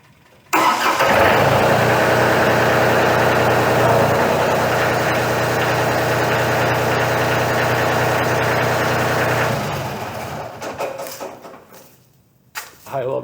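A truck engine rumbles loudly and steadily at idle for several seconds, deep and close, then cuts off and leaves quieter rustling.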